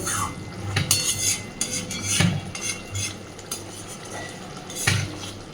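A spoon stirs rui posto, rohu fish in poppy seed paste, in a metal pan, scraping and clinking against the sides in uneven strokes with a few louder knocks, close and clear with no talking.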